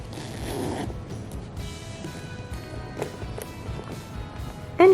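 The zipper on a Coach Teri white leather shoulder bag is pulled in a quick rasping run, followed by soft handling clicks and rustles of the bag nearby.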